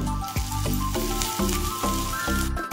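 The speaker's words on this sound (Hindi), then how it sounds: "बर्तमान पियाज को भलो भाबे भाजी नेबा।" Onions frying in a pan for a crispy Shimla lanka (capsicum) dish, a loud, close sizzle with repeated stirring scrapes and clatters of a utensil against the pan, no talk.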